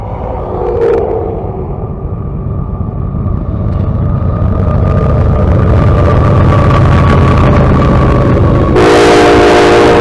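A coal train rumbles past loudly and continuously, a deep rolling roar of wagons on rails, with a horn blast sounding near the end.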